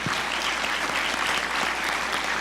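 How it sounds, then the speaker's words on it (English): Steady, dense audience applause fills the room after a panel session on personalized medicine at a cancer center event, continuous clapping from a crowd, moderately loud throughout with no voices over it. "let's give everybody a round of applause"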